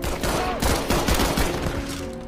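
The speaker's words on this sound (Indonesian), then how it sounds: "Tiba-tiba kedua petugas saling melepaskan tembakan." Rapid film gunfire as two officers trade shots in an action thriller, dense overlapping bursts of loud shots and impacts filling the whole stretch with no pauses.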